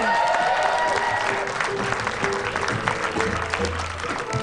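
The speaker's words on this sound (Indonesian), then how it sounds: "Tepuk tangan dulu." A studio audience claps on an Indonesian television talk show, a moderate, fairly loud wash of applause with voices and background sounds mixed in, tapering slightly toward the end.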